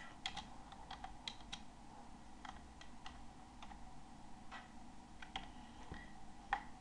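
Quiet, steady typing on a computer keyboard while filling in spreadsheet cells, with scattered light key clicks over a faint background hum and no talking.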